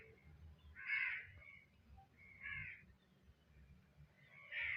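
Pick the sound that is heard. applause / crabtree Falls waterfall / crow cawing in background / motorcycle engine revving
crow cawing in background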